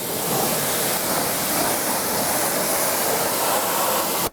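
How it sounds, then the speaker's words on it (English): Continuous broadband hiss of a pressure-washer spray rinsing a wheel and axle of a Shelby GT350R during a deep-clean detail, loud and steady for several seconds before cutting off abruptly. "Let's rinse."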